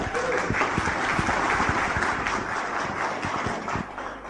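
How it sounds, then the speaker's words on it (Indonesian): An audience applauds at a motivational talk, dense, steady clapping from many hands filling the room throughout, loud and close, with no speech over it. "Aplaus untuk Anda semuanya."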